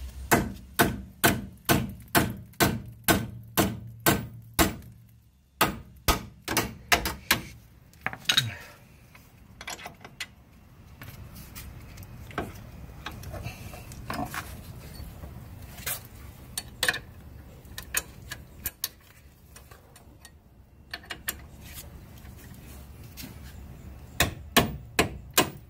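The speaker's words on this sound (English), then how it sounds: "Take a hammer" A hammer strikes the front wheel bearing hub of a Chevrolet Sonic, sharp metallic blows in a quick series at first, then scattered knocks and clatter over a workshop background, with no talk.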